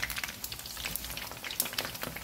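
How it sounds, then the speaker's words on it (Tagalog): Eggplant frying in hot oil, a soft continuous crackle and spatter with scattered pops, fairly quiet and steady, no voices. "prituin muna natin tong ating talong"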